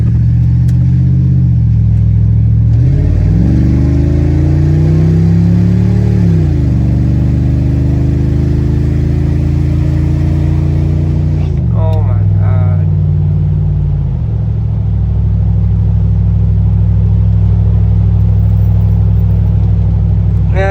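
An old high-mileage beater car with a 4.6 V8 idles with a steady low rumble, revving up briefly partway through before settling back into a smooth, even idle, close and loud throughout.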